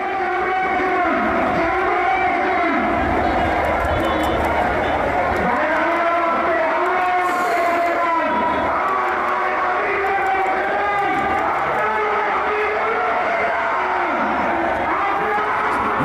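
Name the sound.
crowd chanting slogans at rally in Bangladesh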